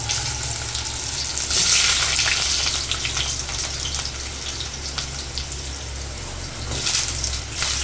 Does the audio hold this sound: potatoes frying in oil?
yes